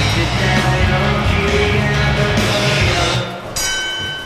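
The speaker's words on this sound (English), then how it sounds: "And the bell is rung. We are underway." Ring bell struck to open a women's fight match at a live combat sports event, loud clangs ringing over a noisy crowd, then the crowd noise drops and a sustained bright ringing tone carries on toward the end.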